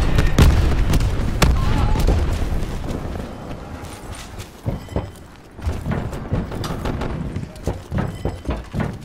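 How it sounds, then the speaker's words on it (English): Grenade launcher fire from a War Machine in the Black Ops 4 video game, with heavy booming thuds scattered irregularly through a busy multiplayer battle mix, alongside other gunfire and impacts. "Enemy war machine firing."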